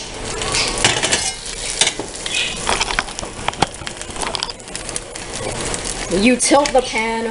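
Metal frying pan and spatula clatter while an egg fries, with scattered sharp scrapes and knocks over a steady kitchen background; a voice is heard briefly near the end.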